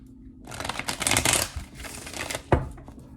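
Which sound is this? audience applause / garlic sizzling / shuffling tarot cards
shuffling tarot cards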